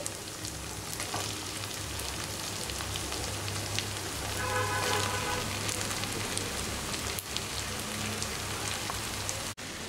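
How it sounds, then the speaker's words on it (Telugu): Brinjal pieces dropped into potatoes and onions already frying in hot oil give a steady, dense sizzle that carries evenly throughout, close and moderately loud, with no voices. "ఇప్పుడు ఇందులో మనం కట్ చేసి పెట్టుకున్నటువంటి వంకాయ ముక్కలు వేసుకోవాలి"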